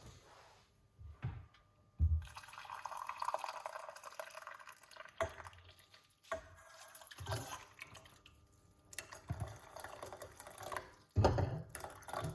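Hot water is poured into a teacup in a kitchen, producing faint, uneven bursts of splashing and trickling with small drips and pauses between pours.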